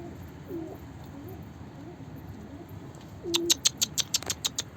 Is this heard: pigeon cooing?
yes